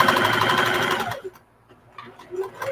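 A sewing machine runs steadily as it stitches along a towel seam, then stops, leaving faint handling noises and soft clicks.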